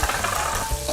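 Shrimp fry in a hot metal pan, a loud, close, continuous sizzle with crackling hiss and a couple of soft stirring bumps.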